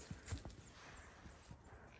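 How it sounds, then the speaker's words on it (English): Hooves of a horse clip-clopping at a walk in the woods, a handful of soft irregular steps, fairly quiet and close, with faint outdoor background. "Okay, there is a horse."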